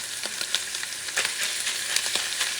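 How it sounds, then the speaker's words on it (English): Diced onion and minced garlic frying in a pot with browned camel meat for kabsa, a dense steady sizzle with a few stirring knocks, close and fairly loud, no talk. "add the diced onion and let them soften"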